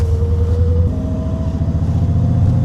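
BMW E32 735iL with a swapped LS1 V8 idling steadily up close, a deep loping engine rumble with faint gear whine layered over it, continuous and loud with no talk.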